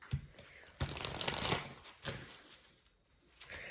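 Tarot cards being shuffled by hand, a few quick riffling and sliding bursts, soft and close with brief pauses between them.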